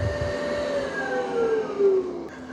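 Yeedi M14 Plus robot vacuum cleaning a room at home: a steady whirring suction hum with a slowly shifting motor whine, close and continuous, no voices.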